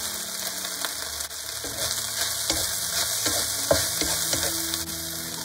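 Cabbage leaves fry in a hot oiled pan alongside fried tofu puffs, giving a loud, continuous sizzle broken by soft scraping and clicking as the food is stirred.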